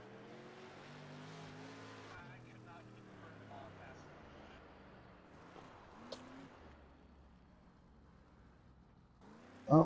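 Street stock cars racing on a short dirt oval, engines droning and rising in pitch as they pass, fairly distant, with people talking throughout and a loud sharp noise at the end.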